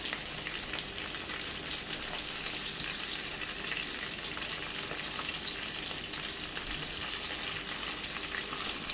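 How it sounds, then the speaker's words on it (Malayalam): Green masala chicken pieces coated in fresh coriander and spices fry on a low flame, giving a dense, continuous crackling sizzle that stays loud and even throughout. "ഇനി നമുക്ക് ലോ ഫ്ലെയിമിൽ വെച്ചിട്ട് എല്ലാ സൈഡും ഇതുപോലെ തിരിച്ച് മറിച്ചിട്ട് നമുക്ക് ഫ്രൈ ചെയ്തെടുക്കാം."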